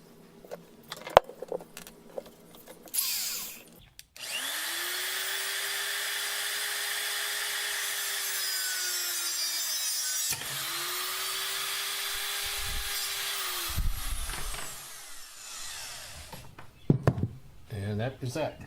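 A power tool cuts through a gazebo canopy's metal frame, whining loudly in two long, steady passes with a short break between them, followed by clattering and handling noises of the cut parts.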